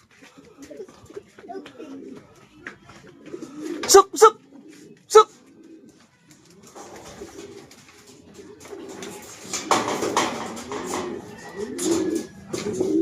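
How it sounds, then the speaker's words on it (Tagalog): Racing pigeons cooing close by in a loft, soft murmuring coos under a voice, with a few sharp calls of "suk" and growing background chatter and rustling. "Kalapati ba natin to?"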